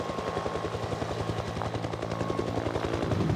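A rescue helicopter flies close by, its rotor thumping in a fast, even beat over a loud, continuous engine roar that fills the whole stretch without a break.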